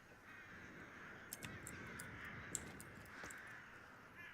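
Crows in a video game caw several times at a distance, faint and scattered over a quiet, hissing ambient bed, with no voices.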